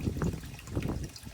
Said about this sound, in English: I just wanted to have some water sound here in the garden